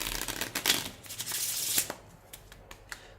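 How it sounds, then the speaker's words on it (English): A regular deck of playing cards shuffled by hand, a rapid, close riffle of flicking cards followed by a few lighter taps and shuffles as the deck settles. "What I'll do is I'll give it a nice shuffle."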